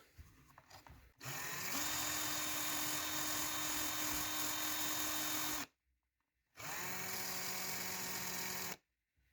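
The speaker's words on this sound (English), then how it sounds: "all I use is sanding disc, pretty coarse, in the drill, hold it down on the desk" A power drill spinning a coarse sanding disc whines and grinds loudly in two sustained bursts separated by a short pause, sanding down a pin for an RC car steering link.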